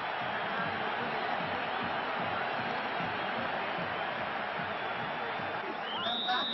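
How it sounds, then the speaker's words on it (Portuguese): A large stadium crowd celebrating a São Paulo goal in a 1992 Brasileirão match, a dense, sustained roar of cheering heard at a distance under a commentator's talk. "A torcida comemorou."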